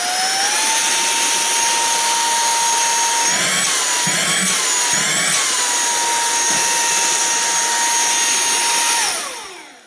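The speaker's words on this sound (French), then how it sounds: "Donc c'est un petit aspirateur" A SERVOMASTER cordless handheld mini vacuum cleaner runs at its single speed, a loud steady high-pitched motor whine with brief wavering dips in the middle before spinning down at the end.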